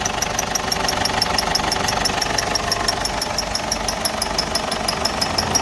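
An old Ford car engine with a fault idles nearby with a steady rhythmic knock and rattle from the rear, running continuously at a constant, fairly loud level.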